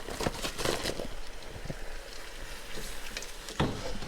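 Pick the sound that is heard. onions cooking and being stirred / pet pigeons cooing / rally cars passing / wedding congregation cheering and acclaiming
onions cooking and being stirred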